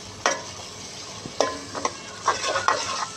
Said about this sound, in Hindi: मिक्स करेंगे इसको अच्छे तरीके से।